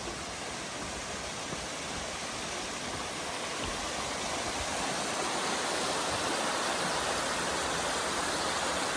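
A waterfall on a tour near Dublin sends out a steady, broadband rushing hiss at a moderate distance, unchanging throughout with no voices.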